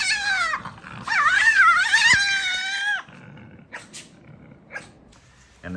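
A Tasmanian devil in the forest lets out harsh, wavering screams that rise into a long shrieking cry, then breaks off into scattered short growls and snorts, loud and close.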